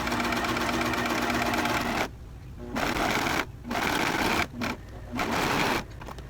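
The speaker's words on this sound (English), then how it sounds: "If you do use a regular sewing machine for this, you're going to want to stretch stitch for this step" A sewing machine hems a sleeve with a stretch stitch, whirring loud and close in several runs with short pauses between bursts.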